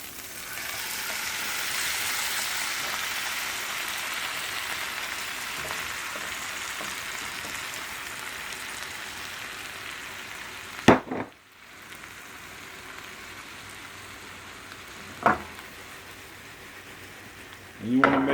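Onions and bell peppers sizzle steadily in a wide pan, a loud continuous frying hiss, with a couple of sharp clatters as cabbage is added and the sizzle briefly drops.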